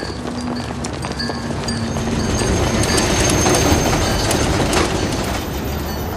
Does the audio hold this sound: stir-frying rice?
no